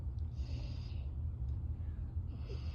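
A person imitates a sister's snoring with two airy, hissing inhales separated by a soft, low breathy rumble, close and with no talk.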